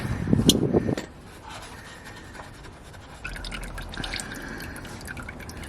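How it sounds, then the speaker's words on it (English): Engine oil drips from the drain during an oil change on a Fiat Panda 4x4. A short loud burst of liquid is followed by quiet, then faint scattered drips and clicks close by, with a low hum underneath. "It's still dripping a bit"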